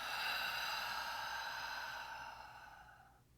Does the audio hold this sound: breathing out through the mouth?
yes